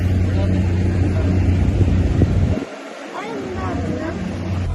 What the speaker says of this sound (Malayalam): അങ്ങനെ ഞങ്ങൾ ബോട്ട് യാത്ര തുടങ്ങി.